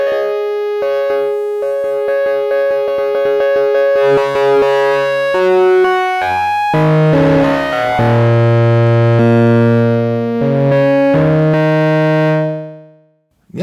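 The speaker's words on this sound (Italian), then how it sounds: "Andiamo a sentirci una distorsione." A Sequential Prophet X synthesizer played through a distortion effect, loud harmonic tones stepping through a sequence of notes that thicken into a gritty, saturated drone before fading out at the end, with no talking.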